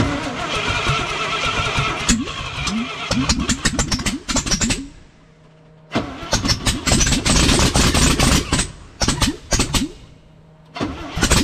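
A 1968 International farm truck engine cranking and catching on starting fluid, firing in rough bursts that rev and die, with a brief quiet gap before it cranks and sputters back up, loud and close.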